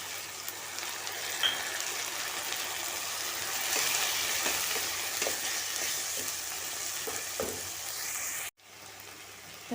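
Moong dal sizzles and fries in a hot pan, a steady, dense crackle throughout with a few soft stirring knocks, fairly close, before the noise cuts off near the end.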